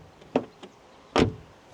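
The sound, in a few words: 2005 Škoda Fabia car door opening and closing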